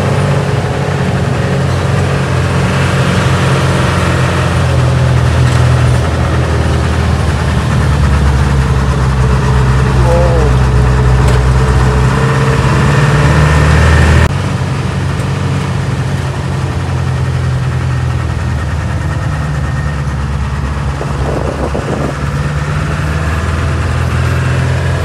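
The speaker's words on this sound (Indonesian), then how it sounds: "Ini kalau teman-teman perhatiin itu suara mesinnya, gila itu nangis." Car engine labouring steadily on a steep, narrow climbing road to Sambori in Bima, a loud continuous drone with a slight drop in level partway through and no talking.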